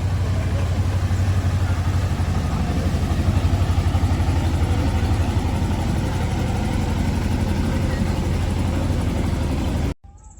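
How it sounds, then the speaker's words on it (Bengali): A picnic motorboat's engine drones steadily and fairly close on a river for several seconds, then cuts off abruptly near the end. "পিকনিকের নৌকা যাচ্ছে।"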